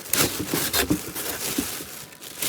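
Tissue paper crinkles and rustles while a ThredUP box is unboxed, a series of close, sharp crackling bursts in quick succession.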